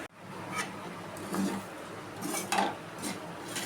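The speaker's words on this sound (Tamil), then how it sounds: "நான் ஒரு தேங்காயை திருவி எடுத்துருக்கிறேன். இதை நல்லா வெறும் வாணலில் பொன் வறுவலாக வறுத்து எடுத்துக்கணும்." Grated coconut being dry-roasted and stirred in an empty pan for a Diwali somas filling gives soft scraping and clinking of utensil against pan, with intermittent stirring strokes close up.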